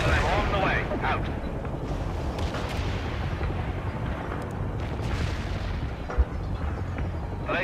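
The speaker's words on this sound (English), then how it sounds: "I've got a payload of cluster bombs and I'm on the way." Cluster bomb air strike explosions in the strategy game World in Conflict, Soviet Assault campaign, with a dense rumbling wash of blasts and crackling bursts under a radio voice and a single sharp pop near the end.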